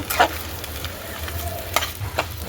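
Oil sizzles steadily as chickpeas and dried chilies fry in a pan, with a spoon scraping and stirring a few times.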